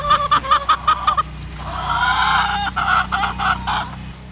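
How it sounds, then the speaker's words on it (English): Chickens clucking on a pastured farm, a series of close, loud, rhythmic clucks followed by a sustained, squawking call and more clucks, with no talk. "The chickens look like they're doing well."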